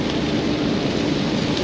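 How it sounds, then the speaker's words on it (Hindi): Heavy rain pours down during a drive on the road to Samba in Jammu and Kashmir, a dense steady hiss of rain drumming on the vehicle under the engine's low rumble. "चलो अभी तो हमें सांबा के रास्ते में तेज बारिश हो रही ना"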